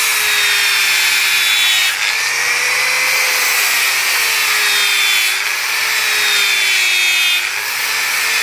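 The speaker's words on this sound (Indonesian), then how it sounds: "Kita sekarang menggunakan amplas." Sandpaper rubs a machete blade in continuous harsh abrasive strokes, close and loud, with a steady high hiss and slow back-and-forth strokes like grinding metal.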